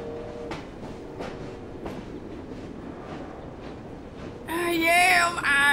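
Train ride in the video game Assassin's Creed Syndicate, a rolling rumble with periodic clacks of wheels over rail joints, rising to a louder screeching, squealing passage near the end.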